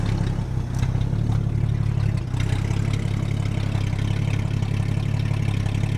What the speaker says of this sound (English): It sounds different, but don't sound quieter. Sounds like a little glass pack.